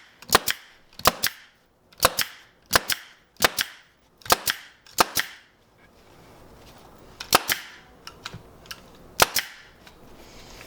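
A staple gun fires sharp, loud snaps while fastening upholstery fabric to a couch, mostly in quick pairs at a steady pace, with a few scattered single shots near the end.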